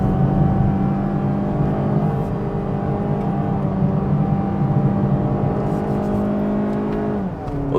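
A Mazda CX-3 with a 1.5-litre engine climbing a hill road in second gear, a steady loud droning engine hum heard from inside the cabin, held at constant revs with a slight dip near the end.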